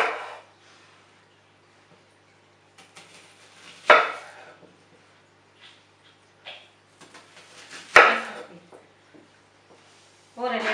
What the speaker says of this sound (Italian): Cominciamo a tagliare le cipolle a metà con un coltello che tagli bene.